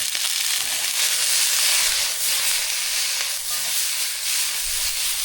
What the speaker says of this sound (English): Oil in a very hot wok. All of the tomatoes.